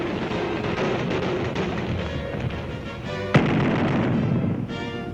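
Naval guns and rocket launchers on a World War II landing ship fire in a dense, continuous barrage of heavy booms and rumbling blasts, with one sharp louder report standing out near the end.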